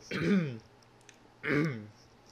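Two harsh, throaty coughs from a man who swallowed wrong, a second apart, close and fairly loud, with quiet background between them.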